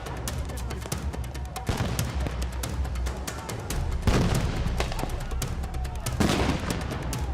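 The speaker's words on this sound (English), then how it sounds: "it seems like they're throwing flash bombs now. There's explosions going off." Sharp blasts of flash-bang grenades crack out repeatedly amid a noisy crowd at Ferguson street protests with tear gas, some near and some farther off, over a constant rumble.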